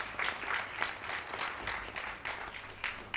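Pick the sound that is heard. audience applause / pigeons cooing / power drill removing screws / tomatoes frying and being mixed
audience applause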